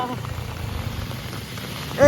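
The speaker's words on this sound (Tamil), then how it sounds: "மழையை கொஞ்சம் யாராவது நிப்பாட்டுங்கப்பா." Steady night rain in Chennai patters and hisses across the whole clip, with low wind rumble underneath and a brief voice rising at the very end.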